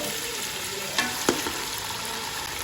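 Chicken frying in a pan for a chicken and pumpkin curry, a steady close sizzle with a couple of brief stirring knocks.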